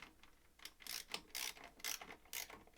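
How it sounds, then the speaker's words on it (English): A ratchet wrench with a socket clicks in several quick bursts of crisp pawl ticks while tightening a joint fitting on a Harbor Freight Predator 3500 generator propane conversion, close and fairly quiet. "Then go ahead with your socket here and grab that."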